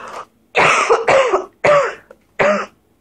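A person coughs hard several times in a row, four or five harsh, close bursts with brief pauses between them.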